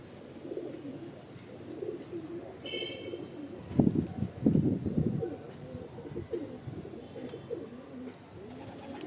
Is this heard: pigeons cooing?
yes